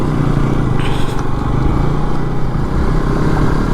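A motorcycle on a long-distance ride between Kolkata and Siliguri roars steadily and loudly up close over a rough, broken road, with continuous engine drone and wind rumble.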